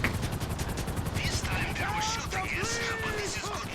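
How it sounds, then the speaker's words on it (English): Enemies fire guns during the Cayo Perico heist in GTA Online, a video game: a dense, rapid crackle of gunshots runs throughout, mixed with whistling, warbling effect tones and a voice talking over it. "these guys are going to keep shooting at you"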